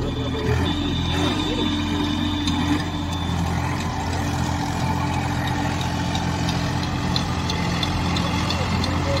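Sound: tractor engine idling

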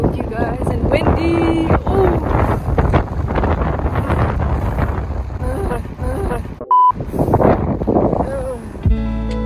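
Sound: cold wind blowing outdoors in snowy weather

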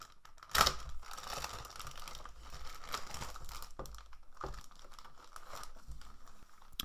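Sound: ripping open a sealed plastic bag

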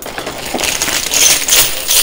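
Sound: coins dropping into coin pusher loot chute

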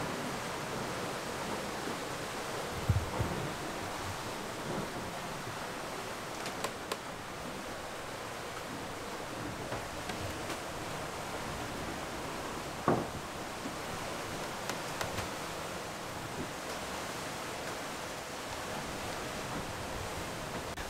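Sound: strong wind and waves while sailing

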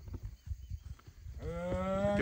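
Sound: herd of cattle mooing

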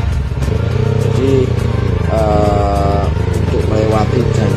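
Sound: custom Yamaha R25 motorcycle riding off-road

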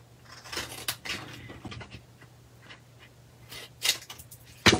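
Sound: cutting paper with scissors for a gift card holder

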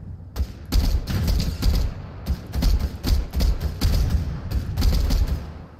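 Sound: video game sniper gunfire

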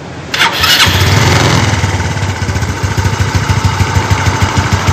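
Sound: vehicle engine starting during radiator flushing

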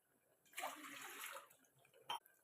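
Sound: water poured into a pan

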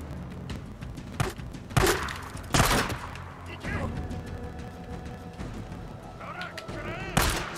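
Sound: grenade explosions and gunfire in the video game Days Gone

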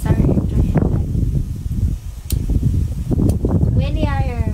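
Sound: wind blowing outdoors

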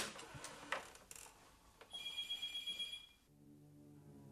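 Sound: telephone ringing

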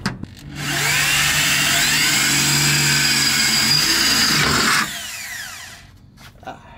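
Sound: power drill making a hole under a 370z car

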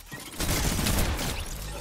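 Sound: gunshots in the video game Fortnite

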